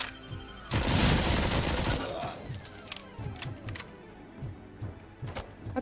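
In RoboCop: Rogue City, an SMG fires a dense, loud burst of rapid shots, then a string of sharper single and short bursts of gunfire with game sound effects in between.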